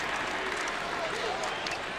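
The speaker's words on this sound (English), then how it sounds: "And the crowd goes wild." Crowd roaring and applauding in a basketball arena during a 2005 NBA game between the Dallas Mavericks and Boston Celtics, a steady dense roar under a commentator's voice.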